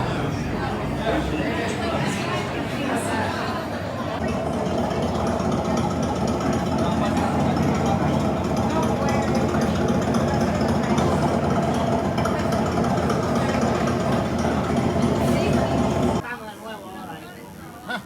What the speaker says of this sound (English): Today's lesson involves magic motorbikes.